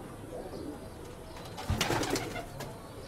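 Tumbler pigeons at a pigeon festival in Veria, soft cooing under a quiet outdoor hum, broken by a short burst of louder fluttering and clatter near the middle.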